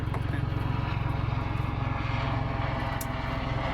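A helicopter flies over toward Balisin Island in Polillo, Quezon, its loud, steady rhythmic rotor chop filling the air throughout.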